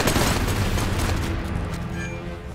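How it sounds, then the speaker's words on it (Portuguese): Gunfire from the Hard West 2 video game, a loud, dense burst of booming shots with rumbling echoes that taper off toward the end. "Tu erra esse tiro, velho Bill."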